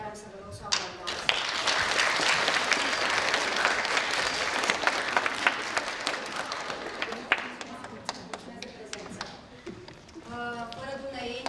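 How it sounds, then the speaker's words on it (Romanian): Audience clapping at a school acting-class showcase evening, sustained applause with sharp individual claps standing out, fading near the end as voices and talking come in. "Carmen Astasă, pe care o să vă rog să o aplaudați."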